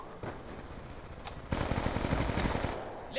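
Sustained burst of automatic gunfire in the video game Black Ops 2, a magazine emptied in rapid, evenly spaced shots that grow louder and denser midway before cutting off, with a faint click at the end.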